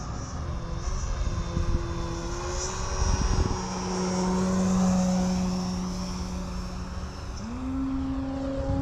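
A SkyWing 67-inch ARS 300 electric RC aerobatic airplane flies overhead with a buzzing propeller whine that rises and falls as it maneuvers through knife-edge passes, steady and moderately distant with no talk.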